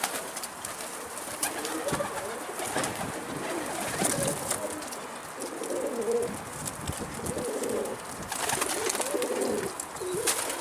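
Pigeons coo repeatedly outdoors in the evening, soft rolling calls recurring over a steady bed of chirps and background noise.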